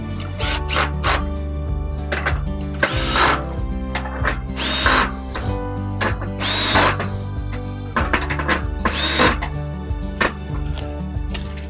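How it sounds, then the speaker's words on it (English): A power drill on its lowest clutch setting drives screws into a metal garden bed, giving repeated short whirring bursts with ratcheting clicks and brief pauses between screws. "our drill with an attachment that is going to be set at its lowest setting"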